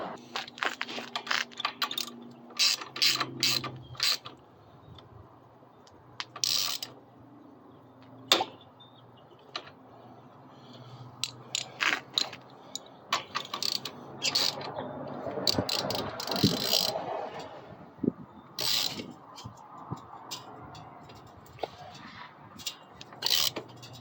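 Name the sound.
ratchet tightening shock mount bolts on Coleman B200RSV minibike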